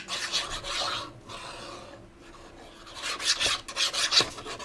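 Folded paper scraps are handled for a DIY Christmas decoration, giving close, continuous rasping and rubbing with a brief quiet lull in the middle. No one speaks.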